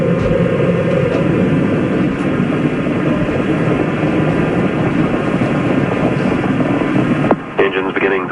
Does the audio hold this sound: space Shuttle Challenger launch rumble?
yes